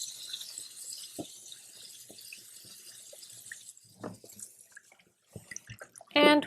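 Chickpeas rinsed under a running tap: water splashes and drips in a kitchen, some clunks, with a voice talking over it and a brief burst of flowing water at the end.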